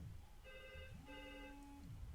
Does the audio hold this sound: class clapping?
no